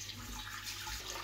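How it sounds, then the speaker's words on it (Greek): Water poured steadily into a deep pot over washed pork bones for ramen broth, a continuous soft splashing stream at close range. "τα βάλουμε μέσα σε μια βαθιά κατσαρόλα και θα τα καλύψουμε με νερό"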